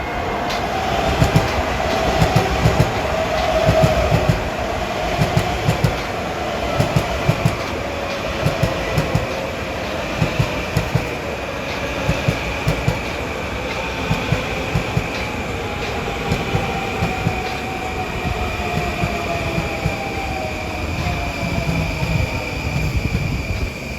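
An LIRR train of M9 cars passes on the Main Line, a loud, close, continuous roar with rhythmic wheel clicks over rail joints and a faint high whine throughout.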